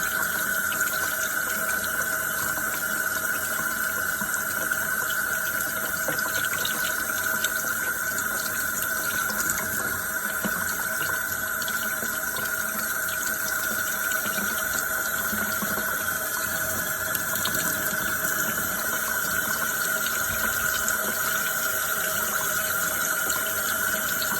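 Tap water pours steadily over an egg being rinsed at a kitchen sink, a constant close hiss and splatter of flow that continues unbroken for over twenty seconds.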